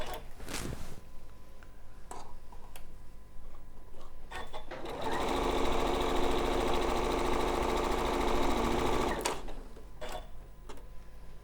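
A sewing machine chain pieces quilt patches for a garden quilt, running in a fast steady whir for about four seconds, preceded and followed by brief clicks and handling sounds, close and alone without talk.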